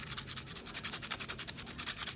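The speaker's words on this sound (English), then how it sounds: "this is sanding pad is a little too soft, so I'm gonna scuff it a little bit" Soft sanding pad being scuffed with quick, regular rubbing strokes, a close, quiet rhythmic scratching that repeats evenly with no talk.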